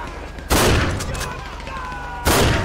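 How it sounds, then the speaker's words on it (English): Heavy enemy gunfire in the LSPDFR police game: two loud, sudden bursts of military-style weapons fire erupt close by, with a sustained din of shooting and rumble carrying on between them. "Wow, their guns sound amazing."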